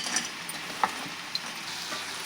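Chopped dry coconut roasting in a pan, a faint, steady dry sizzle with a few soft scrapes and light taps standing out briefly, no voices.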